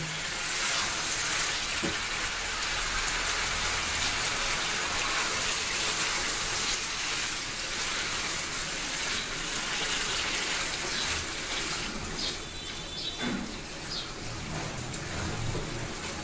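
Chicken pieces sizzle loudly in a hot pan during a stir-fry for chilli chicken, a steady broadband hiss running throughout with a few scraping stirs near the end.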